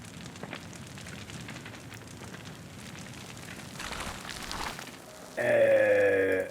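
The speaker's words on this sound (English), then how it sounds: "I have to set this on fire as well" Crackling fire burning in the video game Terra Nil, a soft continuous rustle that swells slightly before a loud tonal game effect cuts in at the end.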